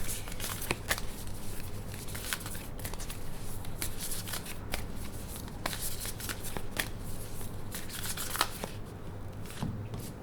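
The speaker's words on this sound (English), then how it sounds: "Now I want to pull an extra card for Sagittarius for my Oracle deck." Oracle cards being shuffled by hand, a continuous close riffling and sliding of card stock with sharp flicks throughout, no talking.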